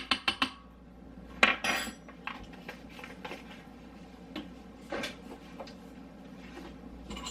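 A utensil scrapes and clinks inside a bowl while a half tablespoon of an ingredient is stirred in at home, with a few sharp knocks at the start, then quieter intermittent taps and scrapes close by.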